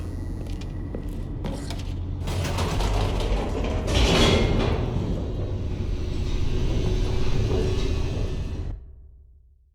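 An elevator descends in The Stanley Parable with a steady mechanical rumble and whirring hum, grinding and whooshing as it travels, swelling and then cutting off abruptly near the end.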